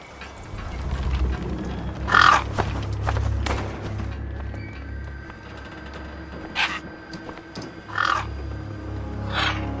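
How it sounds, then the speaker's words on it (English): Gang birds caw in the Beyond A Steel Sky video game wasteland, several harsh calls spaced apart over a low rumbling ambient background. "Then, I heard them. Gang birds, scavengers"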